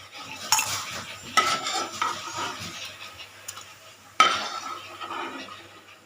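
Golden-fried paneer is stirred in a pan with a soft sizzle underneath, marked by several distinct scrapes and metallic clinks of the spoon, one sharper knock near the end as it is lifted out, and no speech.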